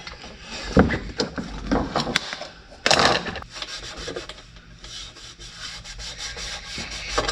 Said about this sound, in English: I want to wax these things out though a little bit, just to clean them up some